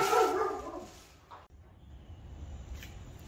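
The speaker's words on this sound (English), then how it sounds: "We got dogs going off a whole lot." Dogs barking somewhere outside during a motorcycle repair job, an excited burst up front that fades into distant, intermittent yaps over low background noise.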